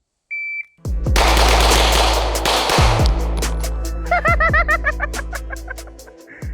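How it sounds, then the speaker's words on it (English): Rapid gunfire from a full-size 9mm pistol, Glock 45 or SIG P320, at an outdoor range: a fast, loud string of sharp shots close to the mic, followed by a quicker burst of evenly spaced cracks, with a short electronic beep before the first shot. "So I'm trying to shoot the gun faster for you guys."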